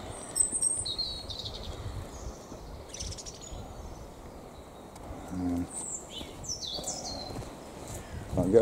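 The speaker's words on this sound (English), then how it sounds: "Couple of robins having a go there." A couple of robins call outdoors by a hedge, giving scattered bright chirps and short song phrases at moderate distance over a soft background hum.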